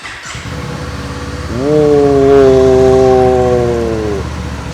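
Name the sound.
Kawasaki Eliminator 500 motorcycle engine starting and revving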